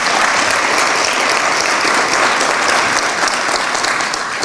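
Loud, dense audience applause fills a hall during a 2017 Camden City mayoral candidate debate, a steady wash of many hands clapping at once without pause.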